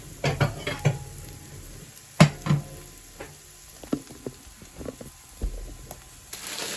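Pine nuts for a halloumi and tomato salad shifting in a hot oiled pan, with soft sizzling under sharp clatters and scrapes of pan and utensil at irregular intervals, fairly quiet.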